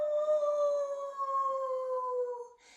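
A voice imitates a wolf howl: one long, sustained note that slowly falls in pitch, loud and close, with no other sounds around it.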